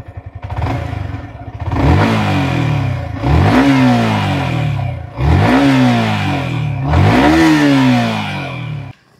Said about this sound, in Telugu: ఇప్పుడు ఒకసారి ఎగ్జాస్ట్ నోట్ అలాగే ఇంజన్ సౌండ్ అయితే వినండి